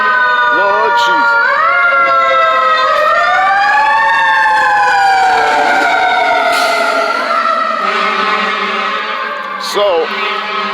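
A fire engine siren wails outside, sweeping up and down in long loud cycles with a deeper horn-like tone near the end, while a person talks over it.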